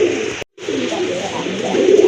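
A spirited male pigeon gives loud, close, throaty cooing in a continuous rolling stream, with one brief gap near the start.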